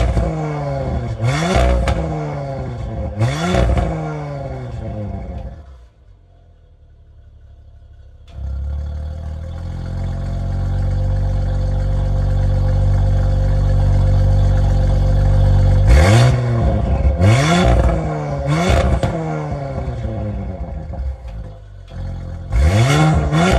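A 2021 Audi RS4 with a downpipe and engine remap roars through several sharp revs, then settles into a sustained loud drone before more quick rev blips, close and loud with no talk.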